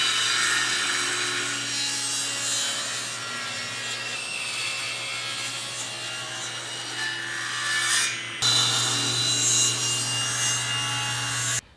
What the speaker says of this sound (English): So after ripping down my leg blanks to rough size